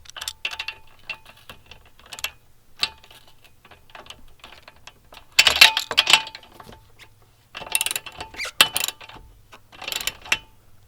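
A 19 mm wrench tightens the axle on a Honda Grom fitted with an extended swingarm kit, producing close, irregular clusters of metallic ratcheting clicks and taps separated by quiet gaps, with no speech.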